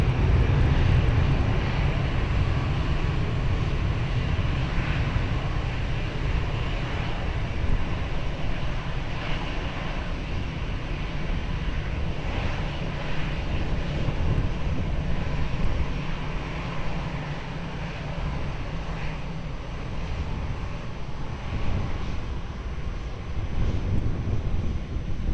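A fixed-wing airliner at Lisbon Airport holds a steady, continuous engine roar with deep low rumble while lining up and departing runway 20, sustained and fairly loud throughout.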